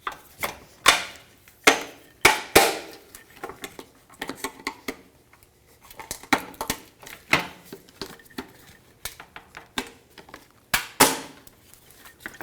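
Sharp hammer blows knock plastic push clips out of the front bumper of a 1998-2011 Ford Ranger. The strikes come in irregular bursts, loud and close, with short pauses between them.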